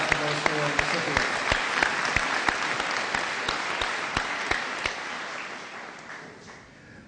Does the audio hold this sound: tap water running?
no